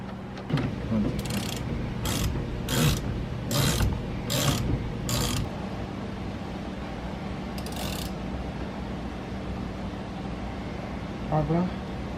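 A steering wheel hub nut is tightened on a DB1 Honda Integra with a ratchet, about six short bursts of close clicking ratcheting and one more later, while someone talks throughout.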